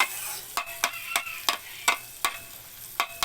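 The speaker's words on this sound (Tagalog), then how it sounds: "iluluto natin maigi itong ating kamatis." Tomatoes sautéing with fish bagoong in a pan, a soft sizzle punctuated by regular, crisp scrapes of a utensil stirring about every third of a second, close and alone without talk.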